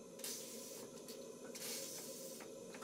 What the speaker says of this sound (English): I'll open the steam valve a bit wider